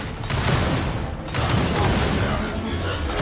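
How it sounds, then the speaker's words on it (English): Auto shotgun firing in Gears of War 4, a dense, loud run of blasts and booming impacts in near-continuous bursts amid chaotic combat noise. "Oh, it's an auto shotgun."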